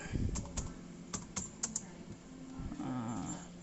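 Typing on a computer keyboard while a new folder is named for a school report file, several quick key clicks and a short burst close by, with faint background hum.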